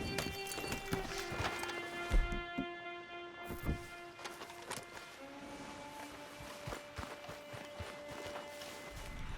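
Horse hooves clip-clop at a steady walking rhythm in Red Dead Redemption 2, close and moderately loud over a bed of game ambience and tonal background sounds.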